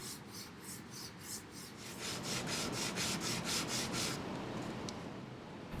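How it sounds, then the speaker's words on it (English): A piece of metal rubbed back and forth against sandpaper, making a steady rasping scrape with about a dozen rhythmic strokes, close and clear, before the strokes stop and a softer rubbing continues. "And then rub your metal against the sandpaper."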